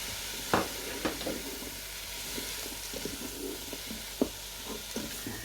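Potatoes tipped into leeks sizzling in melted butter, a steady soft frying hiss with a few sharp clatters and stirring knocks from the pan, close and fairly quiet.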